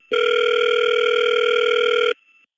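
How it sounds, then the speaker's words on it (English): A telephone dial tone from a phone booth call holds steady and loud for about two seconds, then cuts off abruptly, leaving a faint thin tone trailing briefly into silence. "This is the original unedited phone call from 818-396-7281."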